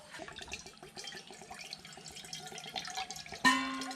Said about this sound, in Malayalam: എന്തായാലും നമുക്കിത് വേറൊരു പാത്രത്തേക്ക് മാറ്റി വയ്ക്കാം